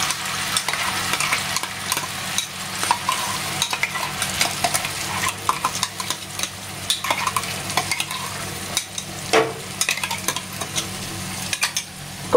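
Masala fries in hot oil with curry leaves for a Malvani bangda fish curry, a dense, continuous sizzle with busy stirring and scraping throughout, close and fairly loud.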